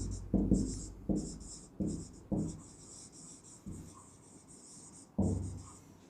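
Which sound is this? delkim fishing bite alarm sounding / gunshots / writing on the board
writing on the board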